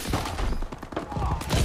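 Rapid bursts of gunfire ring out in the video game Call of Duty: Advanced Warfare, several sharp shots in quick succession over a short stretch of dense game action, moderately loud.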